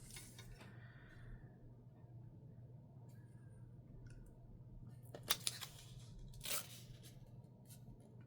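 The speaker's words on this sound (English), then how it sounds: "I'm just going to tear it on that crease." Paper is torn along a crease in a quiet room, with a few brief, close ripping bursts and one longer rip against a low steady hum.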